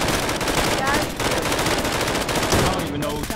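Rapid automatic gunfire in the VR shooter game Contractors, loud sustained bursts of rattling shots filling the whole moment, with faint voice underneath.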